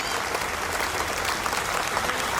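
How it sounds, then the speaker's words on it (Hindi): A school audience applauds a children's Bal Ramayan stage performance with steady, dense clapping, loud and continuous throughout. "जोरदार तालियां इन सभी बच्चों के लिए, पेरेंट्स के लिए और टीचर्स के लिए।"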